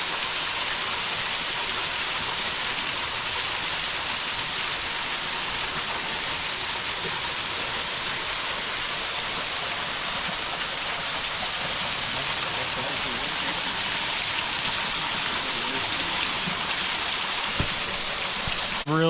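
Water running at a partly frozen waterfall in Ringing Rocks Park, a steady broadband rush that fills the whole clip at an even, close level with no breaks.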